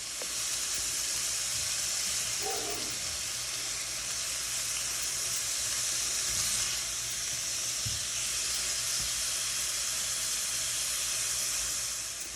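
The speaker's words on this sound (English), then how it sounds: "You just hear it sizzling still because it's in the pan." Steady hiss and sizzle of chicken frying in a pan, constant and close, with a couple of faint clinks and no talking.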